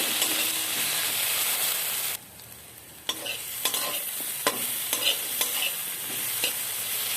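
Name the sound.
spices being stir-fried in a pan for rohu fish curry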